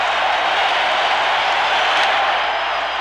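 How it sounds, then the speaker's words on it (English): Dense, roaring baseball stadium crowd noise at the 1991 World Series between the Minnesota Twins and Atlanta Braves, a loud, sustained wall of cheering and clapping throughout. "This is the most noise from this crowd all night."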